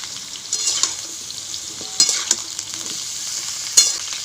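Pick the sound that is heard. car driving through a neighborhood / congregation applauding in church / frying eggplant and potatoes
frying eggplant and potatoes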